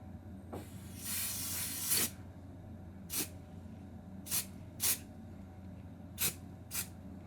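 Aerosol paint sprayed onto a curbed Tesla wheel for a second coat, one long hiss followed by several short separate bursts, close and fairly faint.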